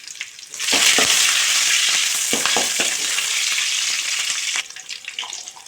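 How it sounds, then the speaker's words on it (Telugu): Four green chillies, slit lengthwise, hit hot oil with a loud, hissing sizzle that surges up and holds for several seconds before easing back, with a few stirring clicks. Close and without speech. "నాలుగు పచ్చిమిర్చి పొడుగ్గా కట్ చేసి పెట్టుకున్నాను ఇది కొంచెం లైట్గా ఫ్రై అవ్వాలి"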